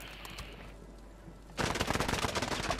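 Dense burst of automatic gunfire from a Warzone 3 match erupts loudly after a quieter stretch, a rapid rattling volley sustained to the end.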